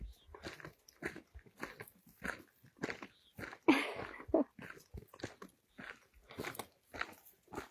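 Dogs on an evening hike playing rough and biting at each other, a series of close snaps, chomps and growly bursts coming in irregular clusters, with a brief louder scuffle midway.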